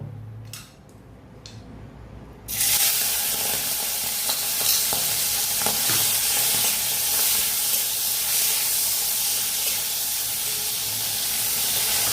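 Prawns dropped into hot Fortune Kachchi Ghani mustard oil burst into a loud, continuous sizzle after a couple of quiet seconds, hissing steadily and close by with no talking.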